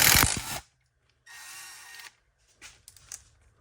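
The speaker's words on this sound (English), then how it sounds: "Take off your old timing chain lock nut here." A power tool on a motorcycle engine, a Honda CRF/XR100 with a big-bore kit, zips off the timing chain lock nut in short whirring bursts, close and loud, separated by brief silences and faint clicks.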